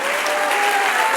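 A church congregation claps together in praise, a dense steady wash of hands filling the hall for about a second, loud and continuous.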